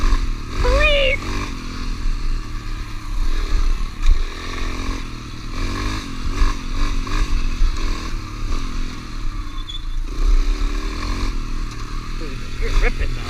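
Yamaha YZ dirt bike engine revving and roaring along trails, a loud, fluctuating motor with bursts of throttle and some clatter, with people talking over it.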